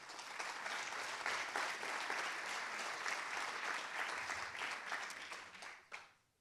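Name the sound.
audience applause welcoming speakers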